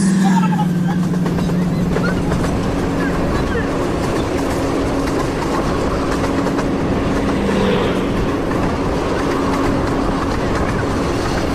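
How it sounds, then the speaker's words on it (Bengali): Upaban Express passenger train bound from Sylhet to Dhaka rolls past close by, a loud, steady rumble with clattering wheels on the rails that lasts throughout. "এই যে ট্রেনটি দেখেছেন এটা হলো উপবন ট্রেন এবং এটা সিলেট থেকে সরাসরি ঢাকার উদ্দেশ্যে রওনা দিয়েছে"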